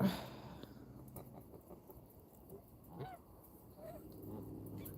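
Pet geese, including a Sebastopol goose and bar-headed geese, honk faintly at a distance, a few scattered calls over quiet background noise.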